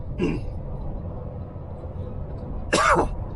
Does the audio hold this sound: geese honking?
no